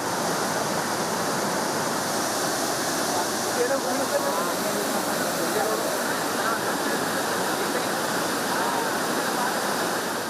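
Mallahalli waterfall on the Kumaradhara river in Kodagu, Karnataka, swollen by heavy rains, makes a steady, dense roar of crashing water that holds unbroken at a constant loud level throughout.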